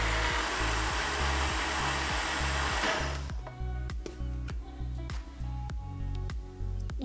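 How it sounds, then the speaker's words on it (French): A food processor whirs loudly as it mixes msemen dough. A bright high rush at the start drops after about three seconds to a rhythmic, lower chugging motor with regular pulses, heard close up. "on va mixer pendant environ 5 minutes"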